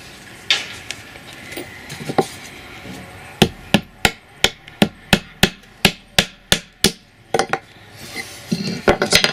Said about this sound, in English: That's my hammer.